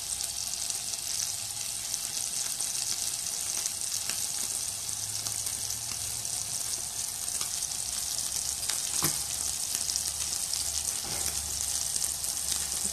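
Meat sears on high heat, sizzling and spitting loudly in a hot, buttery pan, a constant crackling hiss that runs the whole time with no speech.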